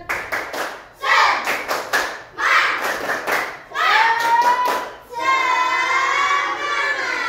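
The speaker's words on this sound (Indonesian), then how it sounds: "Baik, tepuk semangat." Audience performs a rhythmic spirit clap at a daytime date-quiz event, several loud synchronized clap bursts in a pattern, ending in a sustained cheering shout from the crowd.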